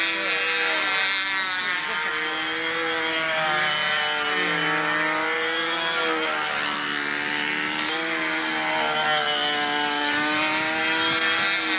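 A radio-controlled model airplane flies in strong wind, its steady high engine whine shifting in pitch continuously near and loud, with gusting wind noise underneath throughout.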